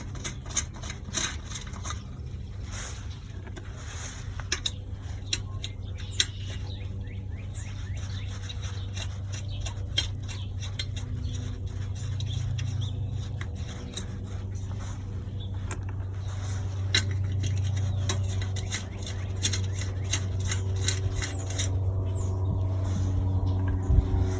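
Lug nuts going back onto a car wheel during a tire change, faint metallic clicks and ratcheting over a steady low hum, with scattered small taps throughout.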